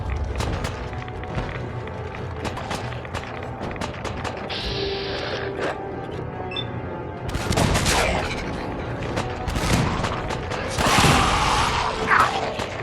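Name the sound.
Broadsider cannon firing cannonballs in the video game Fallout 4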